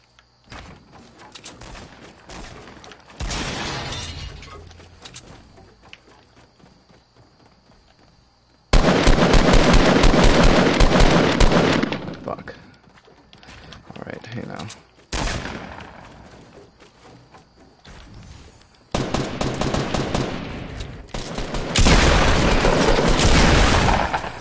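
Gunfire in the video game Fortnite: bursts of rapid automatic shots and single cracks in loud, dense volleys separated by short quieter gaps, with distant pops between them.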